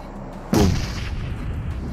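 A bomb blows up in a video game with one loud, sudden boom and a rumbling tail that fades over about a second, heard alone.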